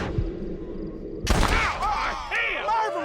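Gunshots in the Red Dead Redemption Western video game: a shot at the start, then a sharp loud report around the middle followed by a burst of game sounds and what seems to be a character's voice.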